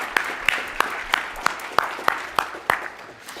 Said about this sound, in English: let's give them magnificent applause